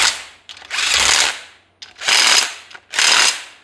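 A ratchet wrench runs down bolts on an engine, three loud close bursts of rapid clicking separated by short pauses.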